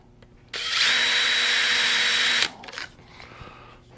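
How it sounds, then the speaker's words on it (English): A power drill whines steadily for about two seconds as it bores into a padauk and maple cutting board, then stops and winds down, leaving faint rattling. "I'm drilling them at 7/8 inch from the corner."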